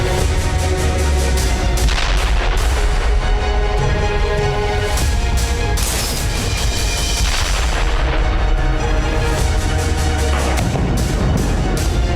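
IDF strikes and artillery fire hit Hezbollah strongholds in Lebanon, with loud, dense booms and blasts rolling one into another. The heavy, continuous rumble of explosions and gunfire fills the whole stretch without a pause.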